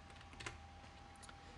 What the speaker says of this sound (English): I'll go ahead and type test.